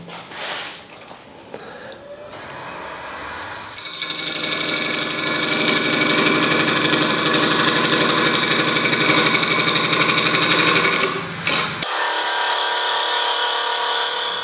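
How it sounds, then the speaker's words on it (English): A wood lathe trims the outside edge of a bowl blank, starting with a short rising whine, then a loud sustained rough cutting roar from the gouge that stops abruptly near the end, leaving the motor hum. "So we're going to start by just trimming the outside edge, safety glasses on."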